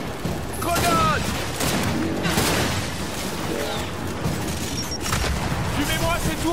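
Gears of War 5 firefight with a grenade blast and bursts of gunfire, dense and loud throughout amid game effects, with someone talking over the action.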